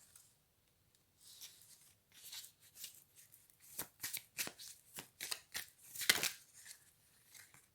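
A deck of cards being shuffled close by: a few soft riffles building into a rhythmic run of crisp flicking bursts, with no talking.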